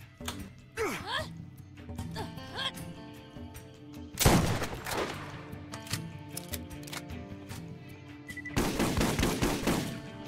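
In Borderlands Game of the Year Enhanced, guns fire in scattered single shots and then rapid, loud bursts. Weapon handling noises and quieter game sounds fill the gaps between the volleys.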